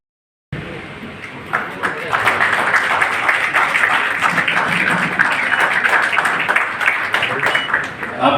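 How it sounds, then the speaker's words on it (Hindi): Applause breaks out at a city award ceremony honouring contributors, starting abruptly after a moment of silence and then swelling into steady, dense clapping from a crowd, loud and close throughout. "आपकी तालियां मस्ती"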